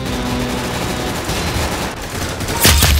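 Gunfire rattles in the video game Arsenal: a loud, dense burst of rapid shots that continues almost without a break, ending in a heavier blast.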